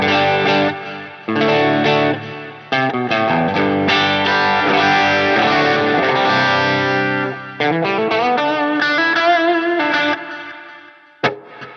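Electric guitar drenched in reverb and delay from a POD Go preset, sustained chords and picked notes ringing out with echoing tails and brief gaps between phrases.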